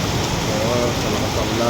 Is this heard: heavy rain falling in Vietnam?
yes